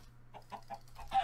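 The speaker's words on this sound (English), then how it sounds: "Found some chickens." Chickens clucking in a video game, a short run of four or five soft clucks followed by a slightly louder squawk, with a steady low electronic hum underneath.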